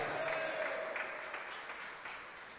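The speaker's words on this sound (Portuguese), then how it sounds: "Vamos aplaudir o Senhor Jesus." Church congregation applauding for Jesus during a Portuguese-language sermon, a steady wash of clapping that stays fairly even and moderately distant, slowly fading over a couple of seconds with no voices on top.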